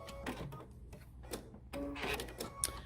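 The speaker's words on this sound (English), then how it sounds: "we're going to stitch right on that line that we marked" A sewing machine stitches along a marked line on a fabric treat bag, running in short bursts with pauses between them, close by and fairly quiet.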